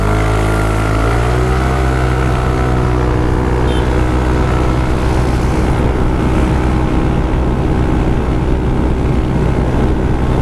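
Yamaha Mio i125 scooter with a Lighten magneto, tuned by Team K-Workz, accelerating hard from 0 to 80. The engine note climbs steeply as it pulls away, then holds a loud, close, continuous drone with no voices.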